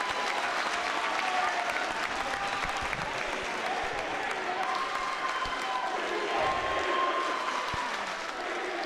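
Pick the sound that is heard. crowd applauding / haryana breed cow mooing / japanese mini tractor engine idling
crowd applauding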